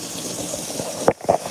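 Water gushes and splashes into a secondhand washing machine being filled by hand, a steady rushing pour with a couple of louder sloshing bursts near the end.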